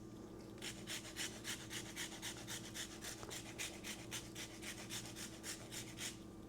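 A lemon is rubbed against a zester in quick, even rasping strokes, about two per second, close and distinct over faint kitchen background hum, with no speech.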